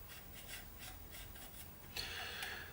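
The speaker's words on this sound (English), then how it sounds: "Rubbing my brush back and forth, picking up that excess." A paintbrush rubs back and forth over a model part coated with liquid green stuff, giving soft rhythmic rasping strokes that repeat steadily, close and fairly quiet, with no voices.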